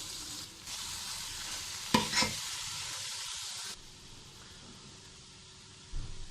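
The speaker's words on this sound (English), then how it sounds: "make sure that you stir this well until the onions turn a little bit golden brown" Onions stirred in a frying pan until golden brown, giving a steady broadband sizzle with a scrape of the spoon near two seconds, the frying dropping quieter midway and a soft knock near the end; no talk.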